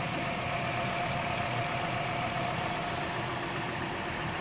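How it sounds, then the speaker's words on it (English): A 2nd-generation Acura MDX with a Honda 3.6L engine idles steadily just after starting, a continuous close, even engine hum with no talking over it. "All right, went ahead and started the engine."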